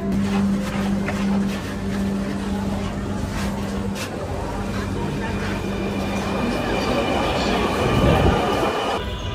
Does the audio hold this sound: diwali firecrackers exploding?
no